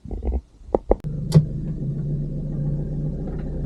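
A car drives along a road in Montenegro, heard from inside as a steady low engine and road drone after a few brief knocks and thumps at the start.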